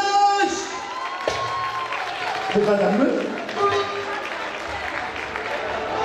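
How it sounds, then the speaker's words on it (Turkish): Concert audience applauding and cheering, a steady wash of clapping and crowd noise under someone speaking and singing on a microphone. "Alkış!"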